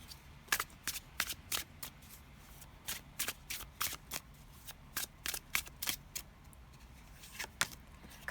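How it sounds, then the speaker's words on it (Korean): Tarot cards are shuffled in a rapid run of crisp, close riffling flicks, repeated bursts spread evenly through the stretch over a faint background hum. "먼저 타로 카드를 뽑아볼게요."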